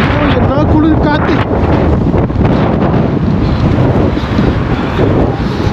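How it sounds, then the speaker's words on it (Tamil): Strong cold winter wind buffets the microphone in Russia, a loud continuous roar with rumbling gusts throughout, with brief voice-like tones near the start. "என்ன குளிர் காற்று."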